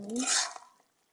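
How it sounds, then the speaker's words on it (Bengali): A spoon stirs red curry in a cooking pot after coriander is added, a brief close scraping swirl lasting under a second, then quiet, with a short clink at the end. "নাড়াচাড়া দিয়ে নিই"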